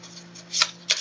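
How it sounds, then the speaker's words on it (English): Tarot cards are shuffled by hand in two quick riffling bursts, close and crisp over a faint low background hum. "I want to shuffle them really good"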